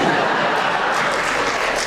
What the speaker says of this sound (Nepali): त्यसकारण त्यताकोले ताली पड्काउनुहुन्छ, यताकोले एकछिनपछि ताली पड्काउनु।